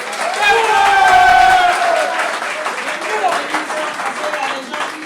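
Wedding guests at a civil marriage ceremony applaud in a scattered patter of clapping that swells and continues beneath a person talking loudly over it.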